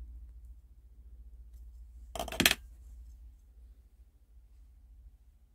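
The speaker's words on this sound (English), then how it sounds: "I'm going to cut that wire from the beginning." Wire cut while making a wire-wrap pendant, a single sharp snip close by in an otherwise quiet room over a low hum.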